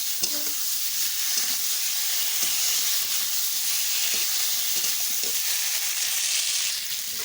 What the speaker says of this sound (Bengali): মশলাটা দিয়ে দিলাম মশলা দিয়ে কষাবো